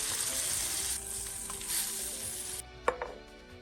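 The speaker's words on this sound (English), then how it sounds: "think this steak could use a sear" A steak sears in a hot pan, a loud steady sizzle with faint knocks for about two and a half seconds before it cuts off, followed by a couple of sharp clinks.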